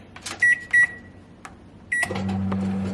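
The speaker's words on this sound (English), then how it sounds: "I'm literally gonna pop that in the microwave" Microwave oven heating a bowl: a few sharp beeps as buttons are pressed, a door clunk, then the steady low hum of the oven running.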